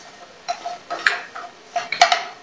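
Roasted makhana tossed with tomato powder and ginger-garlic powder in a pan, giving soft scraping and a few light clinks of a spoon against metal in irregular bursts, close by.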